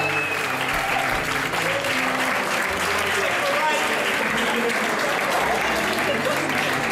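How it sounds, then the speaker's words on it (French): Sustained applause from a gala audience at the Miss New Caledonia 2013 pageant, a dense, steady wash of clapping that fills the whole stretch at even loudness, with crowd noise and voices mixed underneath. "Merci d'applaudir Catherine Waidia."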